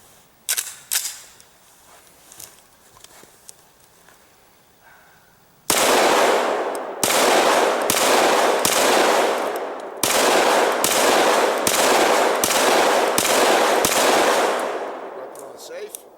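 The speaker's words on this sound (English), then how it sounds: "Alright, Stan, go ahead. 10 rounds." A SIG 551 rifle fires outdoors in the snow: a few quiet clicks and handling noises first, then loud, sharp reports in rapid bursts with brief pauses between them.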